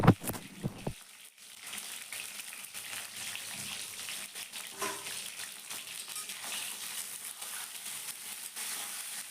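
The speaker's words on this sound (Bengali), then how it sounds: "তেলটা খুব ভালোভাবে গরম হয়ে গেলে তেলের মধ্যে আমি প্রথমে বেগুনগুলোকে হালকা নুন হলুদ দিয়ে ভেজে নেব" Eggplant pieces frying in hot oil with salt and turmeric, a steady broadband sizzle that continues close and even throughout after a brief clatter at the start, with no talking.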